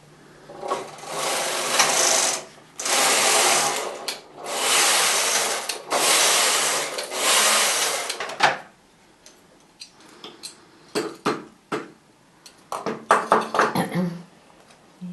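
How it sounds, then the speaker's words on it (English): A Knitmaster knitting machine carriage is pushed across the needle bed to knit needles returned from hold, giving several loud, rasping mechanical sweeps with brief pauses, then lighter clicks and taps toward the end. "now when we take the carriage across it will knit the needles that we had in hold"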